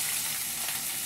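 Chopped onions frying in hot oil in a pan, a loud, close, steady sizzle with no voices.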